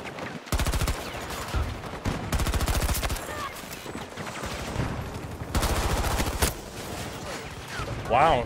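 Repeated shotgun and gunfire blasts in Battlefield 2042 come in loud, dense bursts with brief gaps between volleys, and a short voice-like chirp is heard near the end.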